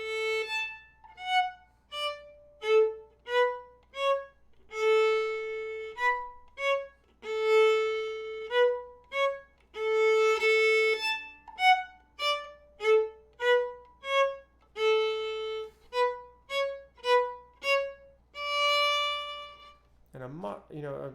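Solo viola playing a passage at a moderate tempo, a steady sequence of clear bowed notes with distinct attacks, close and alone in a quiet room.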